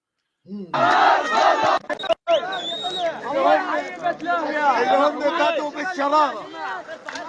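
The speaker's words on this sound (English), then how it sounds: "Here we have a crowd shouting Hamas out" Crowd of protesters in Gaza chanting a rhythmic anti-Hamas slogan, many voices shouting together close by with repeated rising calls after a brief pause.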